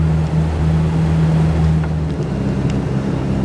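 Yamaha 242 Limited S boat cruising at about 2000 RPM just past a no-wake zone, with a steady low engine drone under constant wind and water rush.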